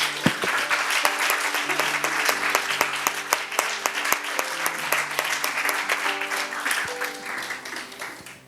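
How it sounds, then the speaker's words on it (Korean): A church congregation claps steadily in sustained applause, loud and dense, with a few sharper claps standing out and no talking over it. "우리 하나님께 영광의 박수 올려드리겠습니다."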